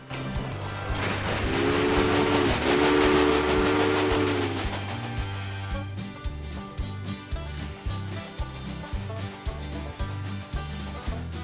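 A locomotive in the Railway Empire Down Under PC strategy game hauls its train along the line, opening with a loud two-tone whistle blast over rumbling wheels, then settling into a steady rhythmic clatter of rails.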